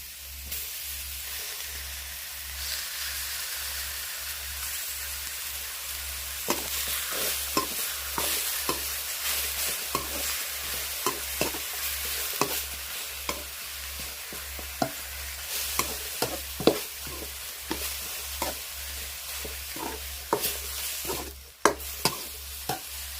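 Pounded curry paste stir-fried with pork bones in a pot for a pork rib and pumpkin curry: steady sizzling under repeated sharp scraping clicks of a spoon stirring, growing busier and louder midway, with a low steady hum beneath.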